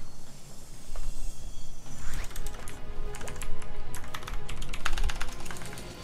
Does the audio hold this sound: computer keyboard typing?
yes